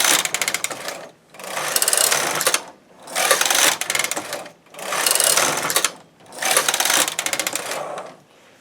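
A knitting machine runs in five even passes while knitting a bulky slipper onto waste yarn, each pass a loud mechanical whirring rattle separated by brief pauses.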